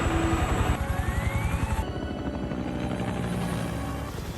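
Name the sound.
helicopter flying in a storm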